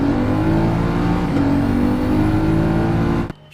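Car engine heard from the interior view at stock weight in Gran Turismo 7, a steady loud droning hum with engine harmonics holding for about three seconds before cutting off abruptly.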